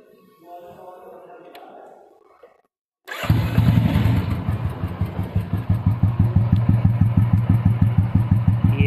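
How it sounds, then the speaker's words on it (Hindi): Royal Enfield Classic 350 motorcycle with its stock exhaust fires up after a brief pause, then settles into a loud, close thumping idle with a steady, evenly spaced pulse; faint background noise precedes the start. "सबसे पहले मैं इसकी एग्जॉस्ट की आपको साउंड दिखा देता हूँ।"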